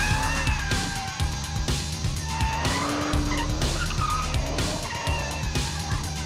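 A BMW 1 Series M laps the La Ferté-Gaucher race circuit, its engine droning loudly and continuously while the tires squeal in drawn-out, rising screeches through the corners.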